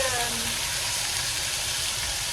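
Steady, dense sizzling of meat frying in hot oil in a pot, close and continuous with a crackling hiss throughout.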